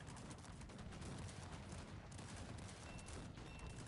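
Massed cannon and musket fire in a Cossacks 3 real-time strategy battle, a dense continuous crackle of overlapping shots heard faintly and evenly throughout with no talk.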